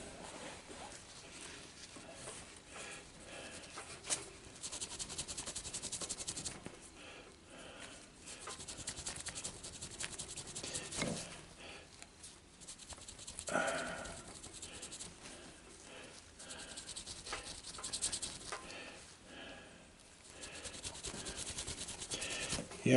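A ring made from scrap copper is buffed by hand, producing a continuous soft rubbing and scraping that repeats in uneven strokes and stays fairly quiet throughout.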